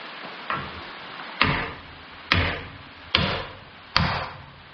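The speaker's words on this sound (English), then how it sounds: "I think we're going to have to bend that back. I'm going to go get the hammer." A hammer strikes metal on a first-generation Ram truck frame being stripped for paint: five loud, separate blows spaced about a second apart, each ringing briefly, with no talk.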